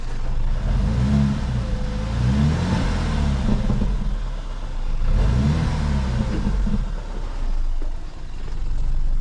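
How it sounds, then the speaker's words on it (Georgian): A BMW engine is throttled up twice in slow swells, climbing from a low rumble to a louder, strained roar and then easing back each time. The engine is close by, with no talk over it. "მოდით გაზი მივცეთ"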